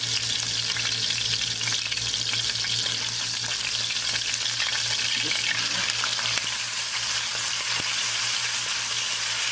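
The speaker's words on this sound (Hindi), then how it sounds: "पहले इसको अच्छे से सॉटे कर लें।" Loud, steady sizzling from a hot pan as ginger and garlic fry, with occasional stirring scrapes and a constant low hum underneath; no one speaks.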